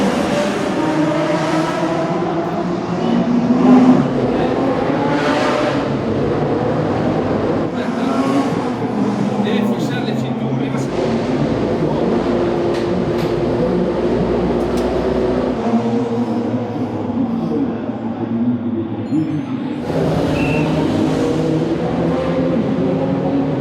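A 1982 Alfa Romeo 182 racing car's 3.0-litre engine roars and revs hard for a long stretch, pitch rising and falling as it pulls through the gears, loud and close.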